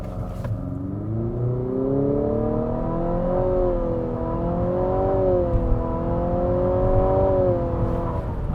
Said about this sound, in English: (2022) Infiniti QX55 Sensory all-wheel drive without launch control.